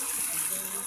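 Water flows steadily at a mountain resort pool in Sindangan, Zamboanga del Norte, a continuous hissing gush that holds even and fairly loud through the short stretch.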